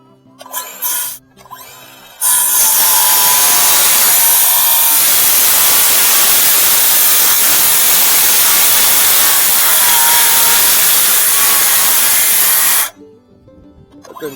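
A saw cuts timber stair treads for a timber frame staircase, its loud, steady hissing whine running close for about ten seconds after a few short bursts, then stopping abruptly.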